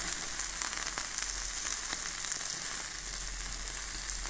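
Butter sizzles on chicken in a hot pan for a butter chicken dish, a steady close hiss with small crackles throughout and no talking.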